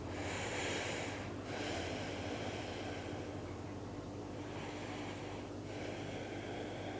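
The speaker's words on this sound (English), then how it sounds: "2 more breaths here." Steady, deep breathing during a backbend stretch, slow inhales and exhales forming a continuous close breath noise with no talk.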